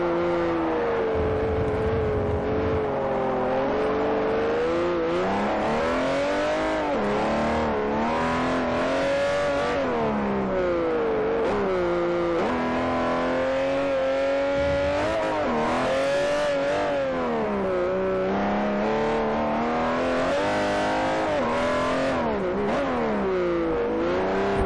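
A Mercedes AMG GT race car in Forza Motosport 4 revs hard, its engine note climbing and falling through gear changes with occasional tire squeal. The loud, continuous engine sound plays alone, with no talking.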